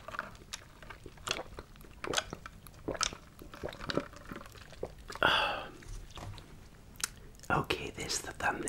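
Bites and chewing of a McDonald's Big Mac Bacon burger, close-up soft crunchy mastication with wet squishes in repeated bursts, some whispery breath between bites.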